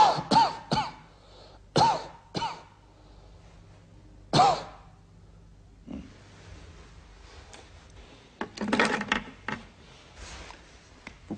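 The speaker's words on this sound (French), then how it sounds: "Toussez." Someone coughs during a doctor's examination, several sharp close coughs and throat clears in short bursts with quiet gaps between them, followed by a softer cluster of shuffling and coughing near the end.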